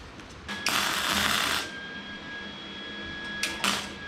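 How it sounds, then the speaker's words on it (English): Welding a seat onto a custom mini gator frame, two bursts of harsh crackling arc noise, the first about a second long and the second shorter and sharper, close and alone over a steady background hum. "So I'm going to weld this up. And weld the seat on."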